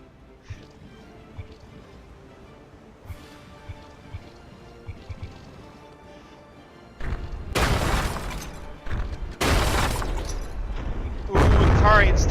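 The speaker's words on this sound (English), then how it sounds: "You know those shells have some power when they can flip a tank with their impact." Shell impacts and explosions in the game From The Depths during a tank tournament battle, heavy broadband blasts arriving late in the clip in several loud bursts after a quieter stretch of scattered smaller hits.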